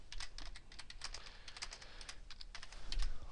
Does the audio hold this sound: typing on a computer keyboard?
yes